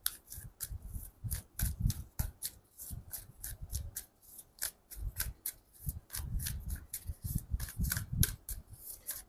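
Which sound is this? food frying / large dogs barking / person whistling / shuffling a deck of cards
shuffling a deck of cards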